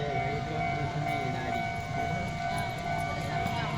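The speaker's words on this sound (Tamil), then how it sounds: "ஸ்டேஷன்லேருந்து கிளம்புற ட்ரெயின் அதான் மெதுவாக எடுக்கிறான்." A train slowly leaving a station in Japan, a steady rail rumble with a sustained tonal whine, fairly close and continuous while someone talks.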